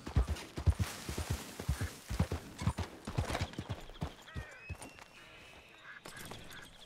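Horse hooves clip-clop at a steady trot in Red Dead Redemption 2, close and loud, then the footfalls slow and fade out, leaving softer game ambience behind.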